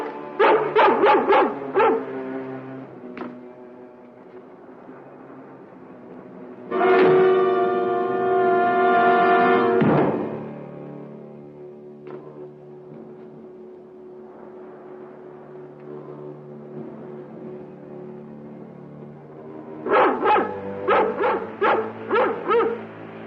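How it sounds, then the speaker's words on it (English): A dog barks in quick bursts of several close, loud woofs at the start and again at the end. A long, sustained tonal wail fills the quiet stretch between them. "That sounds like King's bark."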